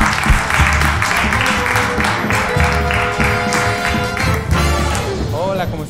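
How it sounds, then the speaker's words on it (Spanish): Studio audience applause on a Spanish-language TV talk show, sustained clapping with cheers running under an amplified host voice, with music also audible. "Vamos a darle un fuerte aplauso, señoras y señores, para ella, que es Ale Ivanova."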